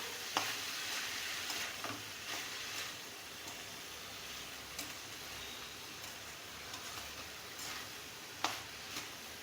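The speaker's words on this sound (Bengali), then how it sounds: "সব কিছু একসঙ্গে ভালো করে মিশিয়ে নিয়ে কিছুক্ষণ এইভাবে দুই তিন মিনিট চালটাকে একটু ভাজা ভাজা করে নিতে হবে" Rice being stir-fried in a pan for Kashmiri pulao, with a low continuous sizzle and occasional sharp scraping clicks of a spatula, fairly soft and steady, no talking.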